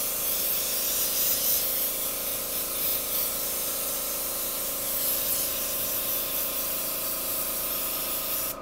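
An airbrush lays down a light mist of paint on a horse figure, a steady, close, even hiss that runs unbroken throughout with no voices.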